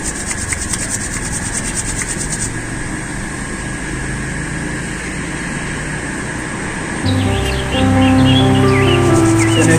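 Palms rubbed briskly together during a yoga eye exercise, a dry, rasping friction sound close by that runs steadily under light background noise, with a brief shift in tone toward the end.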